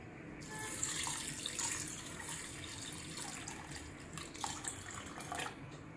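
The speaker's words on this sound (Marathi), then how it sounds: "त्यात आता आपण पाणी ओतून घेऊया।" Water is poured over washed green moong lentils in a kitchen, a soft splashing trickle with faint drips and clinks, fairly quiet and close with no talking.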